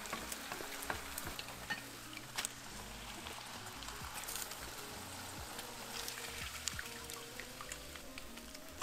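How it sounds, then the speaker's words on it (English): Oil crackles and sizzles steadily as tortillas fry in a pan, with a constant bubbling hiss and occasional sharper pops throughout. "I'm gonna continue frying the remaining tortillas"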